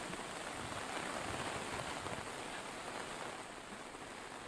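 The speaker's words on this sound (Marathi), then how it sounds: "जिल्ह्यातील 6ही तालुक्यांमध्ये मुसळधार पाऊस पडतो आहे" Heavy monsoon rain pours down in Raigad district in the Konkan region, a dense, continuous hiss of downpour that stays steady and fairly soft throughout, with no voices.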